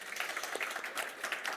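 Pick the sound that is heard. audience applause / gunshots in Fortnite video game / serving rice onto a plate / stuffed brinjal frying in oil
audience applause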